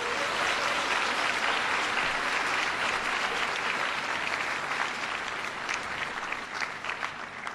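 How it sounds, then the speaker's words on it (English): A large audience applauds after an introduction, a dense, sustained wash of clapping that stays full and even before easing slightly near the end. "Can everybody please give Om a big round of applause for that great introduction."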